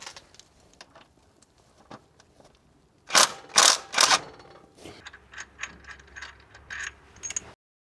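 Torque wrench ratcheting as a bolt is tightened on an Opel Corsa OPC Nürburgring Edition engine during a timing and accessory belt replacement, a quick cluster of loud close clicks followed by softer scattered ratchet ticks.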